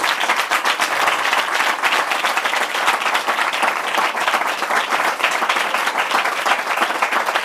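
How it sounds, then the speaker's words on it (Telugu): Congregation applause fills a Sunday church sermon service, a dense, steady wash of many hands clapping at once that holds at full strength without a break. "Give big claps to Jesus Christ."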